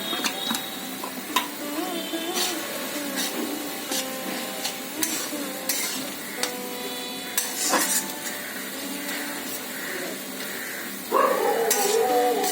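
Grated coconut fries in a pan and is stirred, with a soft sizzle under repeated scraping and clinking of a utensil against the metal, ending in a louder burst of frying.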